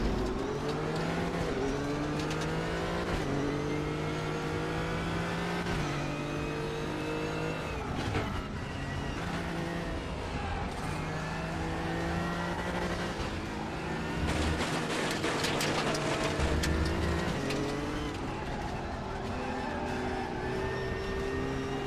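Race car engine in the RaceRoom racing game, a loud sustained whine rising and falling through gear shifts as the car accelerates and brakes, with brief tire noise and no talking.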